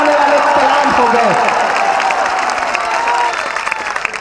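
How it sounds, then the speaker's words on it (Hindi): Applause from an audience at a speaking event at Jamia University, loud and steady throughout. A voice is heard over it at the start. "अब आपकी तालियां बजे"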